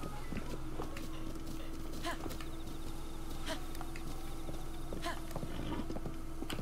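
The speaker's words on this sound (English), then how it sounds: "Why is the horse not moving to my left?" In a Zelda video game, a horse's hooves clip-clop at a slow, regular walking pace on a road, faint and steady over a low ambient background hum.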